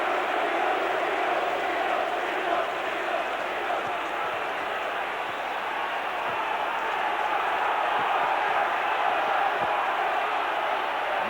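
A Derby County football crowd at a match against Liverpool reacts after a penalty equaliser, producing a steady, distant roar and murmur that holds throughout, with a commentator's voice faintly present.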